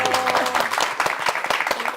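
Scattered clapping breaks out in a church setting over lingering talk, a short burst of separate claps that stays fairly loud and close.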